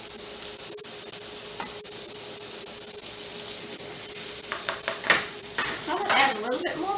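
Onions cooking in butter in a pan, a steady close sizzle with scattered spoon scrapes and clinks of stirring.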